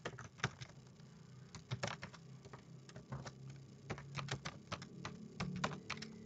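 Someone types a new email address on a computer keyboard, a close, irregular run of crisp key clicks over a low steady background hum, with no talking.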